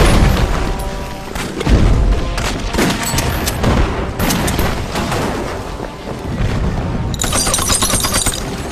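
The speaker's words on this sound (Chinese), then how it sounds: "继续装填，把城墙上的机枪火力点给我轰了。" Artillery and machine-gun fire rage in a Chinese versus Japanese battle in the Empire 1937 video game, with a loud, dense run of booms and rattling bursts that ends in a rapid crackle of fire.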